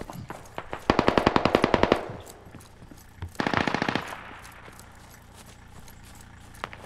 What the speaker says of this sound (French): Ça tire à mon nord.